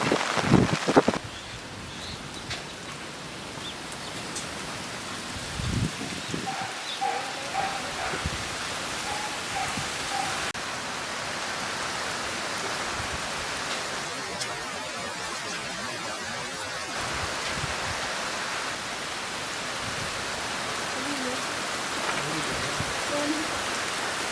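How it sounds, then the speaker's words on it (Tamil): Steady, dense rain pours down in a continuous broad hiss, with a few brief knocks and rustles near the start and a faint voice at moments, near an outdoor cooking fire. "மழை பெய்யுது. சரியான மழை."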